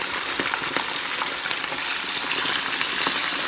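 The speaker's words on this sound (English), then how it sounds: "So now I'm going to take my fish and I'm going to place it down like that inside the oil" Fish fries in very hot oil for Jamaican fried fish, a dense, loud, continuous sizzle and crackle with small pops, close up and without any talk.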